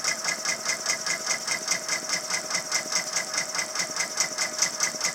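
A Brother embroidery machine stitches through stabilizer with a steady, rapid punching rhythm, a continuous mechanical chatter close by with no talk.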